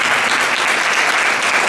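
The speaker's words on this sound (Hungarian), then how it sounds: "Szeretném, hogyha egy nagy tapsot kapnának." Audience applause for the band at an art exhibition opening, a steady, dense wash of clapping from a crowd that holds evenly at full volume throughout.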